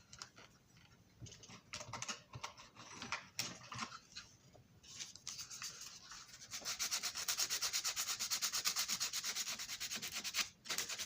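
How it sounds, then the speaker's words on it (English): Sandpaper rubbed by hand on a junk MTH model passenger car under repair: quiet, uneven scratchy strokes that build into a denser, rapid rasping rhythm in the second half, close up with no voices. "Get it once again with sandpaper."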